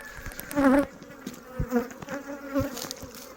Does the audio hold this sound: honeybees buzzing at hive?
yes